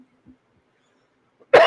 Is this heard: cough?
yes